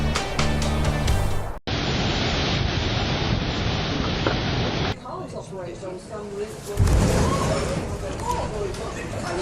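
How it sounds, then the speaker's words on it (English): Huge storm waves slamming into the Stena ferry sailing from Holyhead to Dublin, heavy roaring surf and wind noise across the microphone, with surging crashes and broad rushing water throughout. "Huge waves hit Stina, ferry from Holyhead to Dublin."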